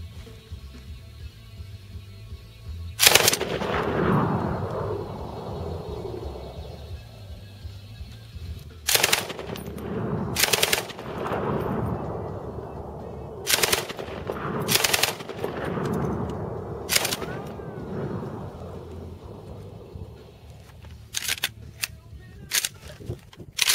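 A Japanese Type 11 light machine gun fires several loud bursts of rapid shots, separated by pauses, with echoing tails after each burst and single sharp reports toward the end.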